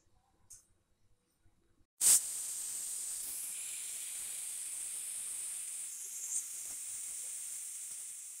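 After a faint click, a loud, sharp steam hiss bursts out and continues steadily at close range from a pressure cooker whistling while cooking mutton curry.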